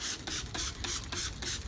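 A handheld plastic trigger sprayer spritzes wallpaper remover onto scored wallpaper in quick, repeated hissing bursts, about five close pumps in an even rhythm.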